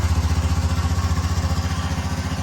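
A Honda CT125 Postie Bike's single engine runs at a steady, close, thumping idle with an even rapid pulse throughout.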